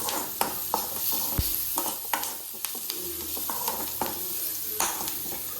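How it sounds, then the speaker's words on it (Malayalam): Onions stirred and sautéed in a pan until browning, a continuous close sizzle with sharp scrapes and taps of the spatula on the pan at irregular intervals. "ഉള്ളി നല്ല ബ്രൗണിഷ് കളറാവണ വരെ നമുക്ക് വഴറ്റി കൊടുക്കാം."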